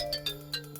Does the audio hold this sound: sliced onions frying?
no